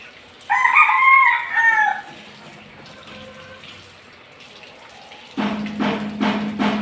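Backyard chickens, with a rooster crowing loudly near the start and a flurry of clucking and squawking toward the end, over a faint running-water background.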